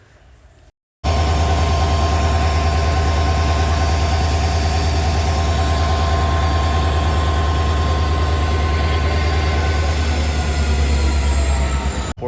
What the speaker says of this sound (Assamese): এইফালে দেখিছে ট্ৰেইন পূৰা আহি আছে